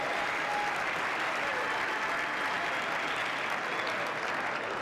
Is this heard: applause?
yes